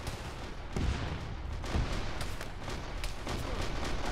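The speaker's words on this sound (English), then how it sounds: "I'm getting shot at again, this is bullshit." Gunfire aimed at the player in a military shooter game, a few heavy thudding shots and scattered cracks over steady background noise, close and fairly loud.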